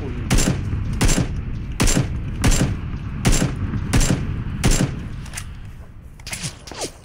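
Gunfire in the battle royale video game PUBG comes as a string of sharp, loud shots spaced roughly evenly about every second, with a quicker cluster at the end.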